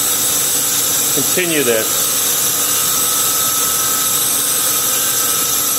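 Lathe machining a 7-inch 17-4 stainless steel dome, a loud steady whir and hiss of cutting with a brief squeal of breaking chips, a voice speaking briefly over the machine noise.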